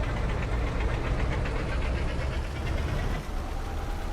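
A Ford Cargo 2520 truck engine laboring and knocking on a winding mountain forest road after an early upshift, a loud, rough, continuous rumble with rapid pulsing vibration.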